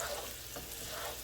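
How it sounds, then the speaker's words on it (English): Rice, garlic and onion sauté in a pan for Persian-style paella, a close, steady sizzle with soft stirring scrapes and no talking. "I'm gonna mix in the rice and saute it a little bit until it's nice and golden with the garlic and onion"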